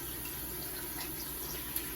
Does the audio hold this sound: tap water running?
yes